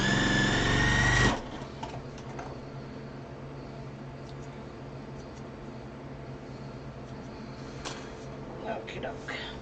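A sewing machine stitching a quilt block runs in a short, loud whirring burst at the start, then stops. Faint handling noises and quiet talk follow.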